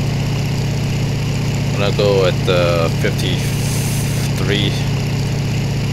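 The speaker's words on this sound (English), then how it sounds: "So I'm gonna throttle down." A steady droning piston aircraft engine in the IL-2 flight sim, being throttled down to conserve fuel, hums continuously and loud under a man's speech.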